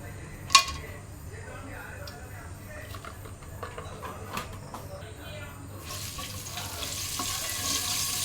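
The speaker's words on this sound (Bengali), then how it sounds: "প্রথমে দিয়ে দিলাম তেল কিছু গরম মশলা ঢেলে দিলাম" Whole garam masala spices fry in hot oil at the start of a home-style beef biryani, giving a faint, scattered crackle with a sharp pop near the start and a brighter sizzle swelling toward the end.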